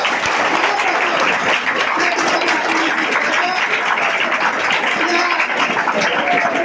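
A large audience applauds steadily at a Guru Purnima gathering in Kolhapur, a dense, continuous wash of clapping that stays loud and even from start to finish.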